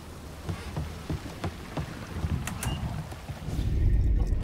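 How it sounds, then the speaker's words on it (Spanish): Steady video game rain, from Mafia: Definitive Edition, patters across a broad hiss, punctuated by scattered sharper drops and knocks, growing heavier and louder toward the end. "Vale, está lloviendo."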